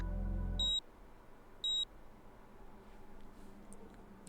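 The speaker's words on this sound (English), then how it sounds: "A tiny beeping sound caught Kano's attention." A small PDA in the game 428: Shibuya Scramble beeps twice, two short, clear electronic tones about a second apart over a quiet background.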